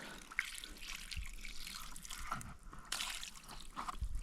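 Water poured out onto the ground in a village garden near a beehive, a close splashing trickle that swells and falls in uneven gushes.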